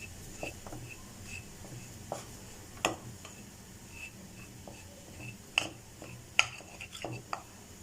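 Gulab jamun dough being mixed in a bowl, soft scraping and light clicking of a spoon or fingers against the dish, quiet and irregular, with a few sharper taps.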